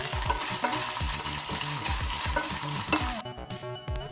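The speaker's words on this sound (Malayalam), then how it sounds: "കോക്കനട്ട് നെയ്യിൽ റോസ്റ്റ് ചെയ്തെടുക്കണം." Small cut coconut pieces roasting in ghee in a pan for green gram payasam, with steady frying crackle and repeated scrapes of a stirring spoon, louder sizzling bursting through near the end.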